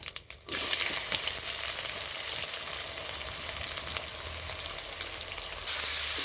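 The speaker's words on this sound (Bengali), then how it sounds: "পেঁয়াজটা আমি একটু লাল লাল করে ভেজে নেব" Onions sizzle steadily in hot oil, a loud, continuous crackling hiss that begins after a brief quieter moment and stays even throughout.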